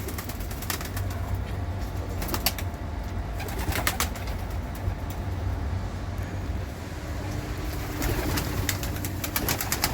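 Pigeons coo and flutter close by inside a coop converted from an old car, amid a steady low hum, with occasional bursts of wing flapping and scattered bird calls.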